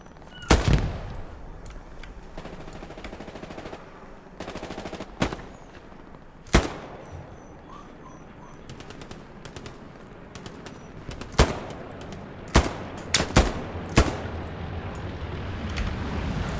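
Gunfire in a World War II video game: scattered loud single shots and short bursts crack out over a constant low background rumble, with a few faint bird-like calls in between.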